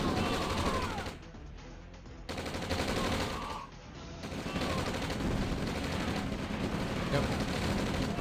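Artillery and gunfire from the real-time strategy game OpenRA, with dense bursts of shots and booms that dip briefly before resuming.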